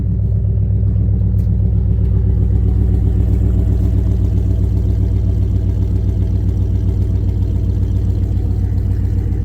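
A GM GMT800 truck with 198,000 miles idles steadily through a new exhaust, a loud, close, deep rumbling burble with an even pulsing rhythm and no change in pace.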